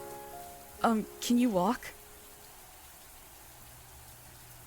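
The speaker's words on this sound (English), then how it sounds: "I love that you can hear the rain sound effect loop." Looping rain ambience in the video game Mamiya: a steady, soft hiss of rainfall continues throughout, with a brief spoken line over it near the start.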